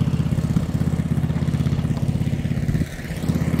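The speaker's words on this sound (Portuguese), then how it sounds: "O escapamento tá direto e é bem no ouvido aqui." An 80cc go-kart engine idling through a straight exhaust, a rapid loud pulsing chug heard up close, steady throughout with a brief dip near the end, no voices.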